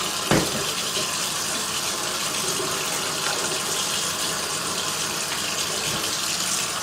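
Plenty of running water pours steadily over rice being rinsed for sushi, a continuous close gushing hiss with a small knock at the start.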